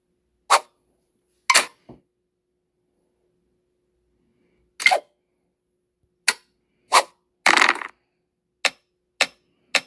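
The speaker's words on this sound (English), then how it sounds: "That people are shooting off fireworks like banging noises." Sharp, isolated bangs from distant fireworks pop at irregular intervals against near silence on the night of July 1, one after another.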